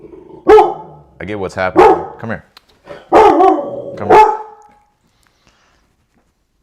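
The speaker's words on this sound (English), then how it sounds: "That's my dog." A pet dog barks several times nearby, loud sharp yaps in two short bursts indoors, with a person speaking over and between them.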